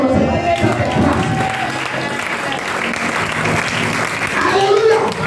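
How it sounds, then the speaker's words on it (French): A church congregation at an evangelical Easter service applauds loudly and steadily, with cheering voices mixed into the clapping. "Est-ce que tu peux acclamer au nom de cette grâce?"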